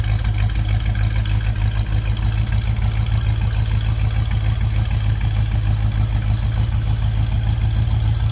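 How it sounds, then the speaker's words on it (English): A 1966 Ford Mustang convertible with a 289 V8 idles at a steady low rumble, its exhaust pulsing evenly and loudly close by for the whole stretch, with no talking. "Slow rumble coming out of that 289."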